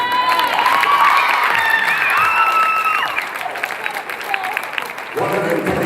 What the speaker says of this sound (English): You can go ahead and start applauding.